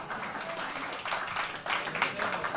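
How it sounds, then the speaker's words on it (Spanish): Applause for four participants in a classroom workshop, a steady broadband patter of many hands clapping at moderate loudness that swells slightly toward the end, with no voices over it. "Un aplauso para los 4."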